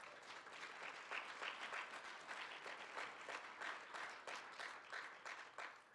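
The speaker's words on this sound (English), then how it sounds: "Please give yourself a round of applause." Sustained applause from an audience at a National Technical Honor Society induction ceremony for industrial trades students, a dense, even wash of many hands clapping, heard from a distance and fairly faint throughout.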